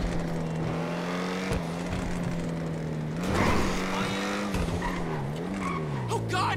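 A BMW M4 in a driving video game holds a steady high-pitched engine drone at speed, with small pitch shifts and brief tire squeal partway through.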